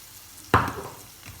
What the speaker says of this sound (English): The onions are cooking, they're browning